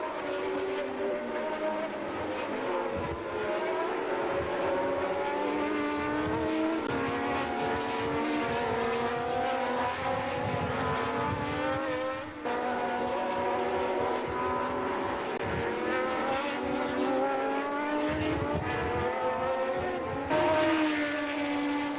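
Formula 1 cars from the 1977 season race past in a sustained, loud engine drone with shifting pitches, running continuously with no talk.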